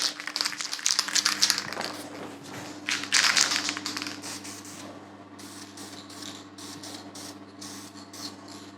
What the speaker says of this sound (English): I'll do the test bit by spraying the back plates